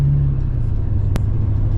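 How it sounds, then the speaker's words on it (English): A steady, deep exhaust rumble from a pickup truck driving on slippery snowy ground while snowplowing, continuous and fairly loud, with a single sharp click partway through. "You can hear the exhaust is all behind me."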